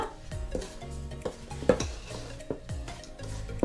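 A wooden spoon beats sugar and butter together in a bowl, giving a close, repeated scraping and knocking stir at an uneven but steady pace, with occasional sharper clacks against the bowl and no talking.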